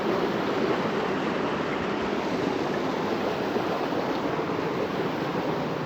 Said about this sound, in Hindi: देखिए कितनी प्रेशर से आ रहा है पानी।